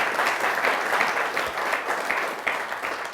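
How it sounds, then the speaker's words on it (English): A lecture audience gives a dense, sustained round of applause for Secretary Ray LaHood, steady and loud throughout with no pause. "So please join me in giving another round of applause and thanks to you, Secretary LaHood."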